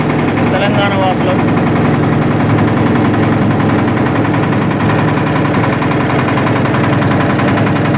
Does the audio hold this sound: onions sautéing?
no